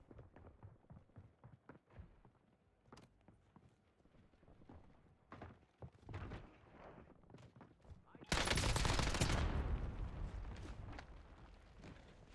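In Call of Duty Warzone, Bouncing Betty mines go off in a sudden, loud blast after a run of quick footsteps and gunfire, followed by a sustained, roaring rumble that slowly fades.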